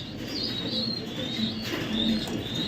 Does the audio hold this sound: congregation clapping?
no